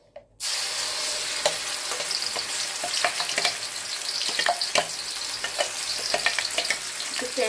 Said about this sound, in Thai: เราลงไปผัดเลยนะคะ